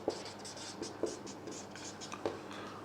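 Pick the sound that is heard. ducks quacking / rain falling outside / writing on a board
writing on a board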